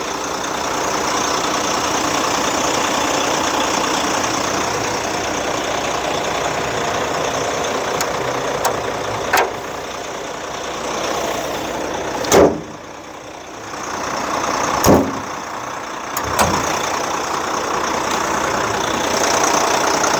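Diesel engine of a 2014 Hyundai Unicity bus idling steadily with a mid-pitched knocking rumble, loud and close, with a few brief clunks and knocks breaking through near the middle.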